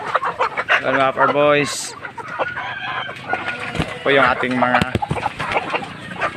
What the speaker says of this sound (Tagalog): alagang manok sa ating Hubbard room.